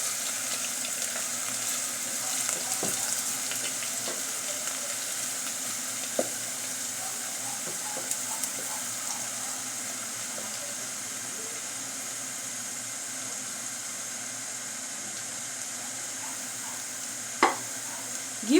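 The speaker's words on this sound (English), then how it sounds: "So we are going to cook it for a little bit since our oil is very hot." Garlic fries in very hot oil with a steady, even sizzle that runs the whole time, broken by a few sharp clicks and pops now and then. It sounds close and carries no voices.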